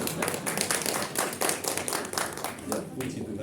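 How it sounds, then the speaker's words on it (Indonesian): A congregation at a Christmas gathering claps together, a dense burst of close, rhythmic hand claps with voices mixed in throughout. "Tepuk tangan buat Tuhan."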